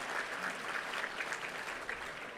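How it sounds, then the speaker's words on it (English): Conference audience at an opening luncheon applauding themselves, a steady, dense wash of many hands clapping at moderate distance, fairly even throughout with no voices standing out. "give yourself a round of applause."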